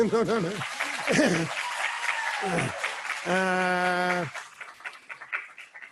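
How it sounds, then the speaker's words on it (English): Conference audience applauds student volunteers at an opening session, a moderate wash of clapping under a speaker's voice and some laughter. "Yeah, you can clap them."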